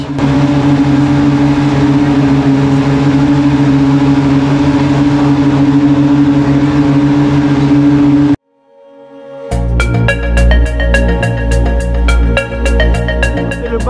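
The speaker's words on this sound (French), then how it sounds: "une petite F2 qui a fait ronronner son moteur. Je vous laisse avec ce doux bruit." A Formula 2 race car engine hums at a steady idle at a racetrack event, then cuts out abruptly and restarts as a loud, rapid, rattling burst of pulses.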